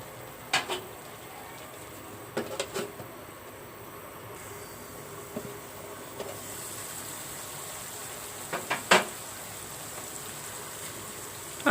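A lid set over a cooking pot of taro stolon curry with jackfruit seeds makes a few sharp metallic clinks and clatters, spaced apart over a quiet kitchen background.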